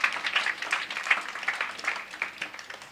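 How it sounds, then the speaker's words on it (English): An audience at a local community meeting gives a round of applause. The dense, brisk clapping is moderately loud and continuous for a few seconds, then thins slightly toward the end. "I think they deserve a round of applause"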